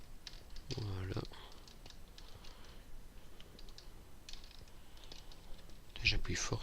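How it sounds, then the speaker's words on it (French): Keys on a computer keyboard clack in firm, irregular bursts near the mic while playing Minecraft, with someone speaking softly in French over the typing. "J'appuie fort sur mon clavier"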